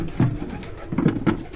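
Pigeons coo in a loft where some birds have fallen ill, with low throaty pulses repeating in short bursts close by.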